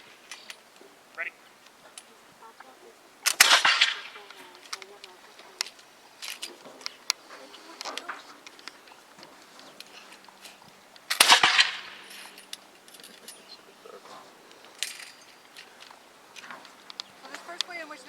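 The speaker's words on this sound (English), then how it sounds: "So this first way in which they were firing is split up into ranks." Muskets fire in ranks at a historical demonstration at Fort George: two loud, crackling volleys several seconds apart over outdoor ambience, with a few smaller pops and faint voices in between.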